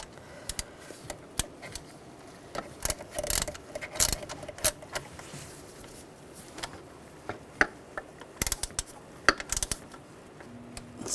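Ratchet tightening a bolt on the knock sensor of a 2004-2009 Audi A4 Quattro 2.0L four-cylinder: bursts of quick metallic clicks with pauses, sometimes single sharp ticks, close and fairly loud, with faint workshop noise between.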